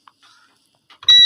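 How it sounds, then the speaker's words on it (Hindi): A beep from an LGK/LFL burner controller demonstration setup with a Weishaupt servo motor sounds as a loud, sustained high electronic tone that starts suddenly after a few faint clicks and rustles. "अगेन आपको बीप भी सुनाई दे रही होगी"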